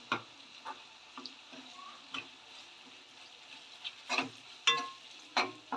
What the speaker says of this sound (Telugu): ఇప్పుడు ఇందులోకి శనగపిండి తీసుకుని వేపుకుందాం.